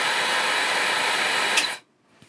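A hair dryer powered by an ENGYPAK 500W portable power station blows a steady, close rushing whoosh for almost two seconds, then cuts off abruptly, leaving near silence with a faint click.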